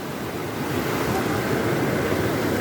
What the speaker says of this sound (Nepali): खोला चाहिँ डेन्जर आइरहेछ